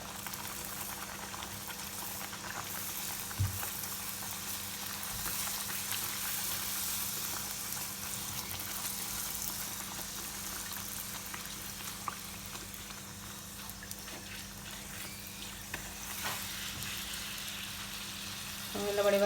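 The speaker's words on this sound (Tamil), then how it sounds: "எண்ணெய் இந்த பூரி சுடுறதுக்கு ஏற்ற மாதிரி பதமாக இருக்குமென்று தான் நான் இப்போ பூரியை போடுறேன்" Poori frying in hot oil, producing a steady close bubbling hiss throughout with faint crackles and a small thump early on.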